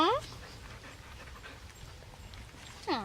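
A small puppy dog panting steadily up close, a quick rhythmic breathing that runs through the whole moment, with brief high voice sounds at the start and end.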